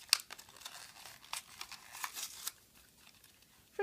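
Close, faint crinkles and rustles come in short bursts as the plastic wrapping of a snowflake sticker set is worked open.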